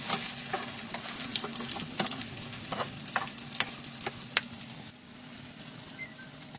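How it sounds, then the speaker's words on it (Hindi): Potato chapli kababs frying in a pan until golden on the second side, a continuous soft sizzle broken by sharp popping crackles, close but fairly quiet, with no voices. "इसी तरह हम ये दूसरी तरफ से भी गोल्डन कलर आने तक फ्राई कर लेंगे"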